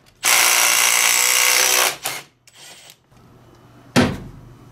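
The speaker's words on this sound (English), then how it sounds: "I'm just gonna pull the nut off here and take the whole thing." An impact-style power tool spins a nut off the input shaft of a 2020 Kawasaki Z H2 in a workshop, one loud close whirring burst of nearly two seconds, then small metallic clatter and a sharp knock.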